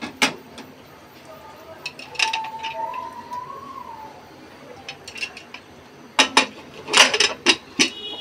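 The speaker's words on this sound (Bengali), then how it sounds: "এখন আমি ঢাকনাটা দিয়ে ঢেকে দিব।" A lid goes onto a cooking pot of kacchi meat, with a sharp metallic clink at the start and a cluster of clattering metal knocks near the end over a quiet kitchen background.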